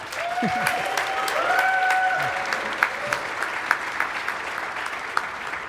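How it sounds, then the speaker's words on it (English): An audience at a speedrunning charity event claps enthusiastically, steady applause fading into scattered individual claps near the end. "Can we get a round of applause for them again, guys?"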